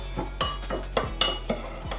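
Breadcrumbs with garlic powder, paprika, black pepper, salt, onion powder and nutritional yeast stirred in a bowl: a run of close scraping strokes with several light utensil clinks against the dish, fairly quiet and evenly paced.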